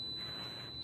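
A steady high electronic beep from an oven, one continuous tone under a second long, fairly clear over faint room noise.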